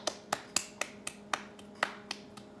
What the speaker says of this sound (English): Let's go ahead and clap out for them.